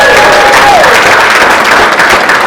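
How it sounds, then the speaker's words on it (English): An audience at a livestreamed party event breaks into loud, dense applause with some cheering, a constant wash of clapping close by. "give it up for you so we get a lot of applause"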